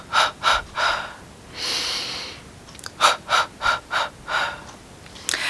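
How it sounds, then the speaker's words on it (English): Labor breathing practice: a run of quick, sharp sniffs in through the nose, a longer whooshing breath out through the mouth, then another series of short nasal inhales, close and clear with no talking. "Through your nose, stop, and out through your mouth."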